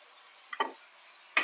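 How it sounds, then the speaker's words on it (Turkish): Chopped green onions drop into a cooking dish. Two quiet, brief rustling patters stand out alone against a near-silent background. "Üzerine doğradığım yeşil soğanlarımı güzelce atıyorum."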